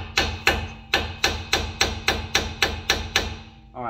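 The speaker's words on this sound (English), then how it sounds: "or the hammer, and hit it out" A hammer knocks at a sway bar link bolt on a 2005 Ford Freestyle: about ten sharp metallic strikes land in a steady, evenly spaced rhythm, close and clear, with no talking.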